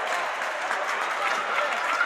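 A basketball crowd applauds a hustle play at a varsity school game, steady clapping and cheering from many hands filling the gym throughout at moderate loudness.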